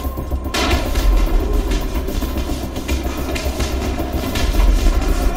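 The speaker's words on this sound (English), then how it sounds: "Those firecrackers actually work pretty well." Firecrackers go off in the video game Dying Light as a rapid string of loud pops and crackles, repeating over a steady rumbling background throughout.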